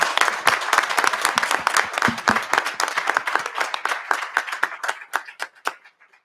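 A township committee meeting audience applauds high school boys basketball state champions: dense clapping from a room full of people that thins into scattered individual claps and fades out over about six seconds.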